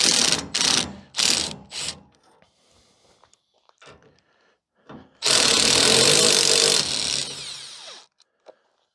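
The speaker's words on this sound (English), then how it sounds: "These are quite a large Torx screw." Large T30 Torx screws being backed out with a bit, several loud rasping ratchet-like bursts near the mic, then a longer sustained grinding burst, with faint handling clicks in between.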